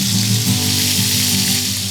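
Loud, steady sizzling of chicken frying in a hot pan, close up, with no voices.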